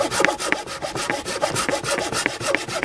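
A Japanese handsaw cuts through wood in quick, steady strokes, roughly three per second, each a close, bright rasp with a faint squeak at the turn.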